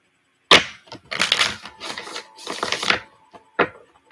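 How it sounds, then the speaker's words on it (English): Tarot cards shuffled by hand: a few bursts of crisp riffling and rubbing, close and fairly loud, separated by brief pauses, with no talk. "Just a few more shuffles."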